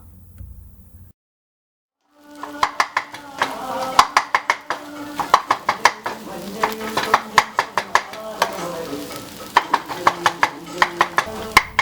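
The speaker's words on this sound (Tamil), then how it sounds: "இந்த மாதிரி ஒரு ஷார்ப்பான தோசை கரண்டியோ இல்லை வேறு ஏதாவது ஒரு பொருளை வச்சோ அந்த சப்பாத்தியை நல்லா கொத்தி எடுத்துக்கோங்க" Egg kothu chapathi chopped in a pan with a sharp dosa spatula, rapid rhythmic metallic clanging strikes in quick bursts over a light sizzle, preceded by a brief quiet moment.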